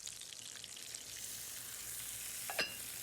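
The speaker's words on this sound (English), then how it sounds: "then deglaze the pan with a splash of lemon juice" A hot pan sizzles steadily as it is deglazed with a splash of lemon juice after pork cutlets are seared, a dense close frying hiss with a brief sharper crackle near the end and no talking.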